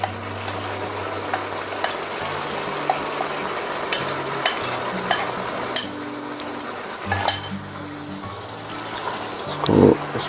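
Beaten yogurt, half a kilo, is added to a degh-style shahi chicken korma and stirred in, giving a steady low sizzle with occasional spoon scrapes against the pot and a soft gloppy splat near the end; no one speaks.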